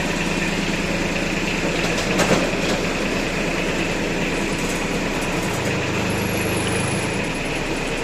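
A Yanmar F6 Japanese mini tractor with a rotary tiller runs with a steady, loud engine drone and rattling mechanical clatter that continues without a break.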